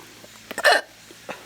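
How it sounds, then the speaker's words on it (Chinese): A single short, sharp burp comes after a meal of sticky rice, close and fairly loud, framed by quiet background noise. "你也吃打包嗝了？"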